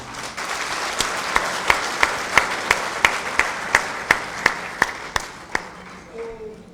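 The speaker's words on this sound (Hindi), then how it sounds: "एक बार जोरदार अपने लिए ताली बजाओ" A large crowd at a village political gathering applauds loudly, settling into steady rhythmic clapping with crisp beats about three per second before fading.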